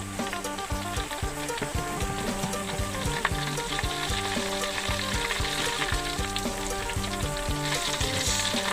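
Sago palm weevil larvae fry in hot oil with pandan leaves, a busy continuous sizzle and crackle with stirring clatter, close and steady throughout.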